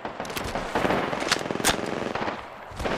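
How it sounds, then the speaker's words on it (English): Rapid automatic gunfire from an Apex Legends match: dense, loud bursts of shots crackling continuously, with a few sharper cracks standing out over three seconds. "Shots fired, and they're hitting me"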